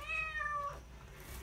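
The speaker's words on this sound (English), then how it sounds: "Sorry about my cat meowing." A female cat in heat gives one drawn-out, wavering meow, fairly faint and alone against quiet room noise.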